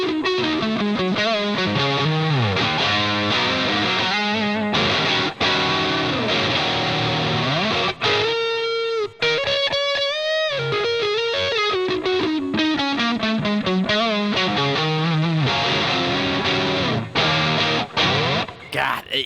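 Fender Strat electric guitar played through an S1 drive distortion pedal, loud, thick and sustained with chords and single-note riffs, brief pauses between phrases.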